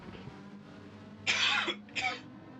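A live motorsport commentator coughs twice during a GT World Challenge race broadcast, two sharp close bursts over a quiet background hum.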